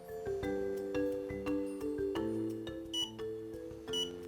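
An LED clock's electronic alarm plays a repeating melodic beep pattern, steady and continuous, quiet but distinct with no talking.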